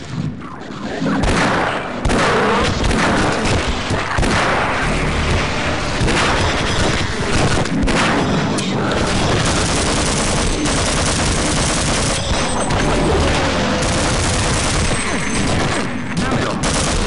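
Sustained rapid gunfire in the video game Half-Life with combat mods, loud and dense with booming shots layered over one another, continuing almost without break.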